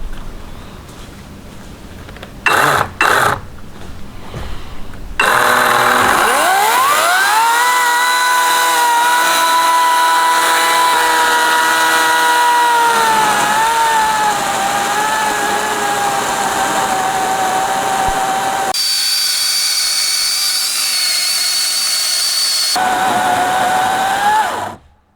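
An Ego 18-inch 56V battery chainsaw milling a wooden beam: after a few short revs the motor settles into a long, loud, steady cutting whine that shifts pitch partway through and then stops abruptly.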